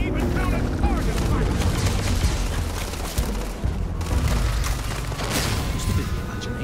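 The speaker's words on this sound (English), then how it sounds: "Watch your throwing grenades." Grenade blasts and gunfire in the space shooter game Starfield, a dense, continuous barrage of booms and crackling shots with someone talking over the din.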